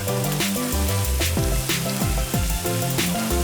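Chopped garlic sizzles steadily as it fries over very low heat in a pan while being stirred, a continuous crackle sitting under a tonal musical background throughout.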